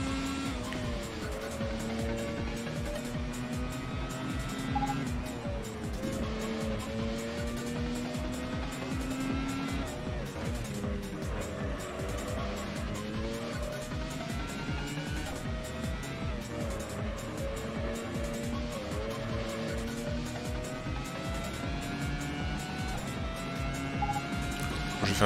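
A Formula One race car lapping a circuit in the PlayStation 2 game Grand Prix Challenge, its high engine note continuously rising and falling through gear changes with occasional tire squeal, loud and steady for the whole lap.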